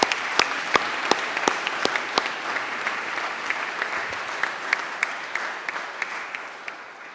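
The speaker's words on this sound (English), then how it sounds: "Let us give your teachers a big round of applause for the appreciation they've done." Steady, full applause from a graduation ceremony audience at Leysin American School honouring the teachers, crisp separate claps punctuating the crowd's clapping throughout.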